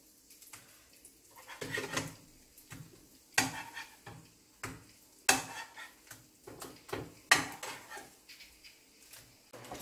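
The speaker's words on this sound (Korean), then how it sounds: "양쪽 한 번씩만 이렇게 부치시면 돼요." Egg-coated ham and pink sausage slices fry in a pan, a low sizzle broken by irregular sharp clinks and scrapes of a utensil against the pan, close and with no talking.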